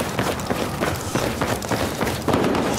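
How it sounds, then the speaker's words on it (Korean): Running footsteps in a Battlefield 4 match, rapid close thuds in an even rhythm under a busy game soundscape, with no talk. "이쪽에서 발소리 나오는데"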